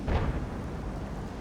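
A single heavy FV4005 tank cannon blast in a video game, with a booming low thud at the start, followed by a rumbling decay and steady low background noise.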